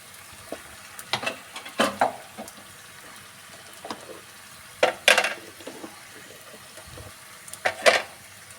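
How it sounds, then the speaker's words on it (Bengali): Rice grains are stirred and fried in a pan, with soft scraping strokes and light sizzling coming in scattered bursts, quiet and close, with no talk. "প্যানে চালগুলো দিয়ে আমি একটু নেড়ে নিয়েছি এখন একটু ভালো করে ভাজা ভাজা করে নেব"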